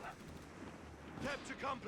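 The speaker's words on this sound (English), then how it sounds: "Mortars continuing to fall here." Distant dull thuds and booms of mortar and artillery fire in the Company of Heroes 3 strategy game, a few impacts falling under continuous commentator talk.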